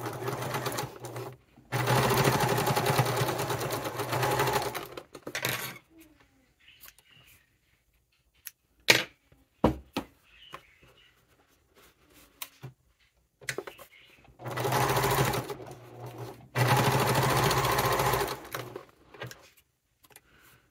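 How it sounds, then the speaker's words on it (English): Sewing machine top stitching a cotton wallet, running in two long steady bursts of a few seconds each, separated by quiet pauses with small handling clicks and taps. "And now I'm going to top stitch this."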